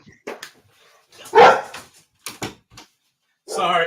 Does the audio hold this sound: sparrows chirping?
no